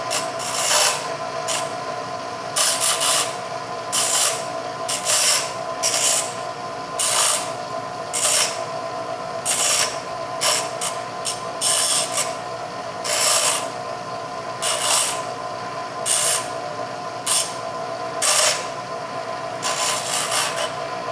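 Bench grinder shaping a steel feeler gauge into a lock pick hook: a continuous close grinding whir, with bright rasping surges each time the metal is pressed against the wheel, steady throughout with no voices.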